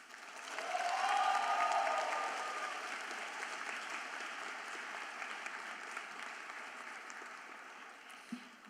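An audience at a medical school white coat ceremony applauds to welcome a speaker, the clapping swelling quickly, then settling into a steady, moderately distant patter that fades toward the end.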